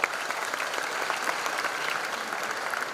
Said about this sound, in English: Yeah, give a big applause.